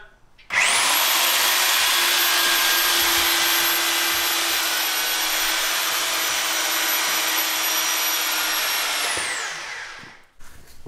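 An iToolCo electric wire puller hauls rope through a pipe, its motor starting abruptly into a loud, steady high whine that holds for about nine seconds, then winds down and stops.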